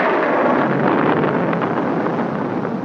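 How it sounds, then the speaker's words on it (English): Thunder rolls through a storm as a sustained, loud, broadband rumble that barely wavers for about three seconds, with no voices over it. "I'm afraid of the thunder and lightning."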